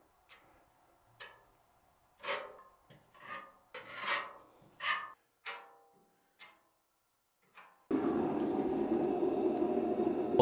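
Bondo filler is worked into an old bathtub with a spreader in a basement, giving a series of short, separate scraping strokes at uneven intervals, followed by a louder, continuous rushing hiss near the end.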